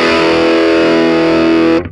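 An electric guitar through an MZO Effects Ohm Enhanced Overdrive v2 pedal rings out as one thick, saturated sustained chord that cuts off abruptly near the end.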